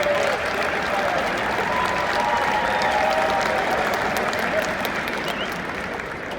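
Sustained, dense audience applause at a hockey award celebration, many hands clapping steadily for the whole stretch before easing slightly at the end.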